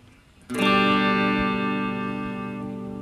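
Ibanez Gio GRG121SP electric guitar with its tone control turned fully down, one strummed chord ringing out loud and sustained, slowly fading over about three seconds with no talking.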